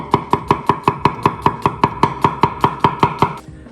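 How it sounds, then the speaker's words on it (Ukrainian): A knife chops garlic into slices on a cutting board in quick, even strokes, about sixteen crisp taps in steady rhythm, close and clear with no talking. "Тому візьмемо чесничок і наріземо, наріжемо його так брутально слайсиками"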